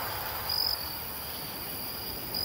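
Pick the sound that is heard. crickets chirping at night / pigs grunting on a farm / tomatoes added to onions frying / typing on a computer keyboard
crickets chirping at night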